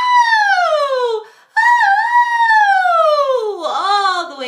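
A human voice imitates a siren, sliding smoothly down and up in a high head voice in long continuous glides, loud and close, with a brief pause between phrases.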